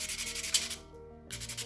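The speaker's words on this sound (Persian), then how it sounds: "یه سنباده نرم بر میدارم و روی اون رو آروم میکشم" Fine sandpaper is drawn gently back and forth over turquoise inlay jewelry, making soft, rhythmic rasping strokes with a brief pause before rubbing resumes, close and quiet.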